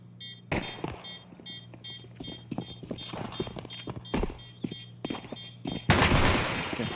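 Pistol shots ring out in a Counter-Strike esports match, a scattered series of sharp, fairly close cracks spread across several seconds over a low steady game hum, ending in a burst of noisy crowd-like wash.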